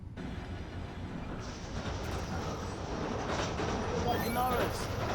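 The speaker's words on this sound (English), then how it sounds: "I have to wait for the train to come by. Come on, train!" A passing train in the video game Spider-Man: Miles Morales rumbles steadily and grows louder, with metallic rail squeals near the end and talk over the rumble.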